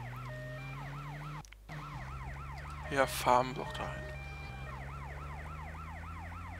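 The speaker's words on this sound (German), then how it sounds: "Mir geht die Sirene auf den Sack, aber die kann ich nicht ausmachen." Wailing emergency vehicle siren in the video game GTA Vice City, a steady repeating up-down siren running continuously under game engine hum, with a brief crash and a short spoken line from a player partway through.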